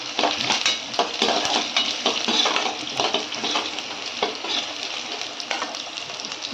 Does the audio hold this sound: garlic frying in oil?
yes